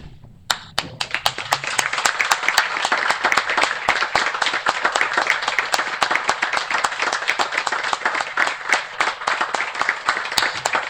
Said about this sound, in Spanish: y un fuertísimo aplauso